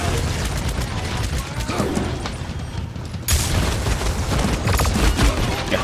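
Bomb King's ultimate explosions in the fantasy shooter Paladins: Champions of the Realm, a dense barrage of booming blasts and gunfire-like bursts, loud and continuous, swelling sharply midway through a busy battle.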